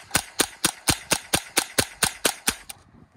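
A plastic toy gun fires about eleven sharp, evenly spaced snaps in a steady quick rhythm, loud and close, and then falls silent.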